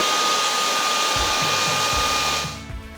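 A cheap Chinese hair dryer runs steadily with a loud, even airy whoosh and a thin motor whine, then is switched off and the noise dies away near the end, with no voices.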